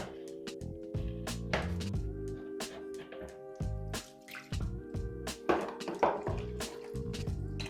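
Water drips from a loosened toilet shut-off valve during replacement, with close, irregular drips and small splashes amid faint clanks and handling noises.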